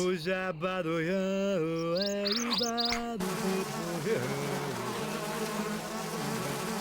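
A dense, steady buzzing of a bee swarm in the video game Zork: Grand Inquisitor, close and continuous, taking over after a few seconds of tonal game music with no talking.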